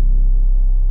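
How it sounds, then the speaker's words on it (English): A sub bass one-shot from the free Atlanta Culture 2 drum kit sounds as a loud, deep, sustained low hum with a slight throbbing pulse, lasting about a second in isolation before it stops abruptly. "I use this sub bass from Tri-Freeze's Atlanta Culture 2 drum kit."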